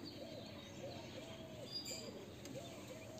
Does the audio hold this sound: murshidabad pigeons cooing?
yes